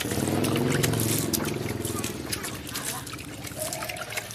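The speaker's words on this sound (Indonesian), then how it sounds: "kita siram seperti ini" Liquid pours and splashes steadily onto a moist mass of fermented goat feed, with a voice talking over it throughout.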